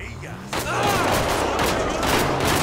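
Gunfire in the video game GTA 5, a street shootout in Los Santos; dense overlapping shots and crackling bursts after a sudden onset, fairly loud, continuing steadily with a voice faintly underneath.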